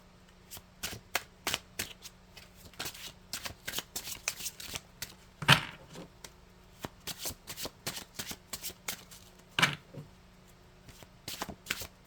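Tarot cards are shuffled by hand in a series of quick riffling bursts, each a short papery flutter, repeating irregularly over about twelve seconds with a faint steady hum underneath and no talk.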